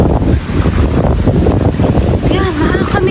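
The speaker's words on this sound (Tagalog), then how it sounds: "walang humpay po yung yung dating ng tubig ng dagat" Seawater surges in relentlessly during a coastal rescue, a loud roaring churn of waves blended with heavy wind buffeting the microphone, with a voice speaking faintly over it.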